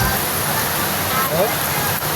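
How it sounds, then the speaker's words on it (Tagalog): Heavy rain pours down steadily as a dense, loud hiss with a rushing roar, close and unbroken, while a voice briefly exclaims. "lakas ang ulan eh oh"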